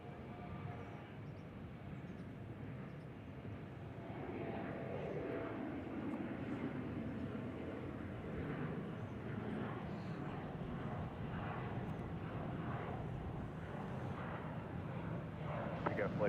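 An airliner landing at Reagan National Airport, a steady distant engine roar that swells slightly and holds, with radio chatter faintly in the background.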